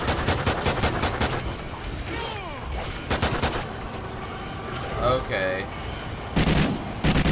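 Rapid bursts of gunfire from the Call of Duty Ghosts Extinction mode, a pistol among them, crackle in dense volleys over game sounds, with a voice speaking briefly.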